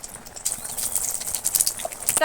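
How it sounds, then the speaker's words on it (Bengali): Dried red chillies, bay leaf and five-spice seeds fry in hot oil for a Bengali pumpkin dish, giving a faint, fine crackling sizzle with small scattered pops. "জিরে সব কিছু একদম ভালো করে ভেজে নিচ্ছি"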